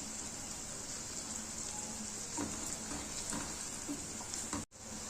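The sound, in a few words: crushed garlic and ginger frying in pan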